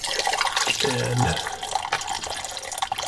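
Water from a bucket splashing into a dry floor drain, a gurgling, sloshing pour with brief trickles, close by, with a short spoken word at the start.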